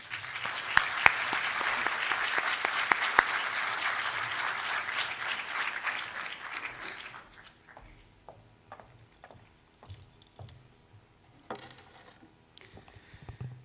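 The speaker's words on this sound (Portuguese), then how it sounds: "para quem peço uma salva de palmas" Auditorium audience at a talk on the Fátima message gives a sustained round of applause for about seven seconds, then it thins to a few scattered claps and quiet room noise.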